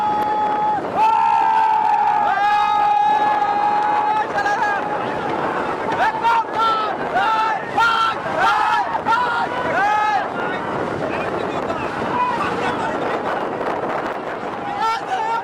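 Traditional long wooden racing boat (baich nouka) with many rowers speeding past at a village boat-race practice in Shahjadpur, amid wind, splashing and a cheering crowd, under loud continuous commentary.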